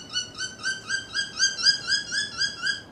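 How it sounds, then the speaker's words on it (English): A recorded bird call repeats in a quick, regular series of about a dozen bright, rising whistled chirps, each with clear harmonics, sounding clean and close with nothing else behind it. "so that's the original, the bird chirp"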